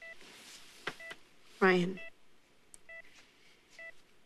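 Telephone keypad tones as a phone number is dialed, several short evenly spaced beeps with a voice speaking briefly in between.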